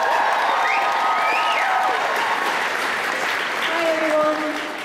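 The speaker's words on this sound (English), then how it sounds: "Can we have another round of applause, please?" An audience at the Kitacon 2012 convention opening ceremony applauds loudly and steadily in a large room, with faint voices and a few whoops mixed into the sustained clapping.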